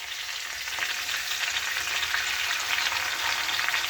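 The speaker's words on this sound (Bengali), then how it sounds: "পোস্ত বাটাটা মিশিয়ে একটু ভেজে নেব।" Cauliflower and potato fry with poppy seed paste and turmeric in a pan, giving a continuous close sizzle with soft stirring beneath it.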